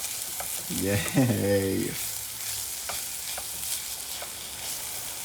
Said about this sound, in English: I'm gonna let the butter, the garlic, kind of brown up a little bit.